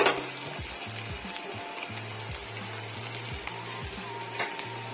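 Ground spice paste fries with onions in hot oil, giving a steady bright sizzle broken by repeated scraping stirs of a utensil against the pan, with no talking.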